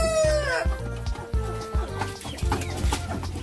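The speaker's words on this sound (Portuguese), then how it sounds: "Os pintinhos da Pérola, gente, tá nascendo" A hen clucks repeatedly, with chicks hatching beside her, sounding close and loud in a series of short rhythmic bursts, while other farm birds call in the background.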